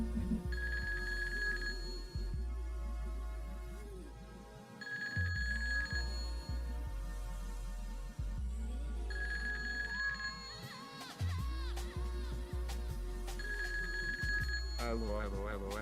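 A telephone rings in the video game GTA2: repeated electronic bell bursts at a steady rhythm, fairly loud in the game mix, with a person talking over it.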